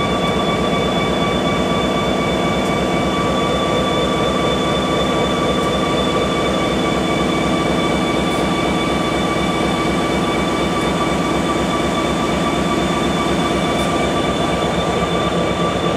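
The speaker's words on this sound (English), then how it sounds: "so you can listen to the prime mover of a serious GP30" EMD GP30 diesel locomotive prime mover idling in a B&O rail yard, a loud unbroken engine throb with steady humming tones and faint periodic clicks, continuous throughout.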